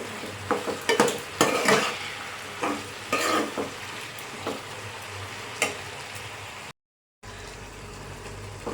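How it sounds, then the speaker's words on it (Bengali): Amla pickle with jaggery simmers in a pan as a utensil stirs it, giving soft bubbling and sizzling under repeated scraping and clinking strokes, close up, with a short silent gap near the end. "আর এতে একটু ফুটতে দেব আমি হালকা সিমে দিয়ে।"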